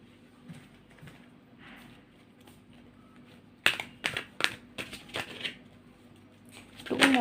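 Tarot cards being shuffled and drawn during a Capricorn love reading, heard as a quiet stretch followed by a run of crisp, close card snaps and flicks, with a louder rustle at the end.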